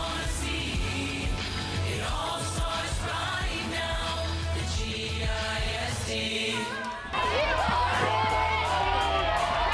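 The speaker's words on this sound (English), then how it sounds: "They're cheering on their team who just regained the lead." Sachse student section cheering loudly at a high school football game against Rowlett, a sustained crowd roar with whoops and shouts that swells sharply near the end after a lead change, with voices throughout.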